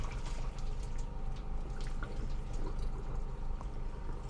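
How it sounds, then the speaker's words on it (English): Water drains and trickles out of a bowl of soaked ogbono seeds in a Nigerian kitchen, a steady close pouring with faint drips throughout. "I'll first of all drain the water out."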